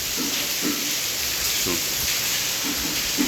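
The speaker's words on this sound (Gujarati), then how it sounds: "આજે વરસાદ જેને કહેવાય ને કે એક તરબતર થઈને વરસી રહ્યો છે" Heavy morning rain pours down in Wankaner, Gujarat, making a dense, constant wash of hiss with scattered heavier drops and patters, steady and close throughout.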